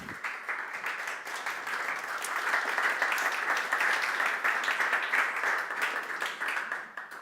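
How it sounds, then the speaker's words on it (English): Audience at a gaming hackathon event applauding steadily, a dense wash of claps that swells slightly in the middle and holds for several seconds with no talk over it. "Another round of applause, guys."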